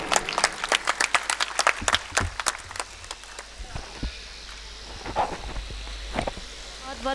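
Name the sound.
audience applause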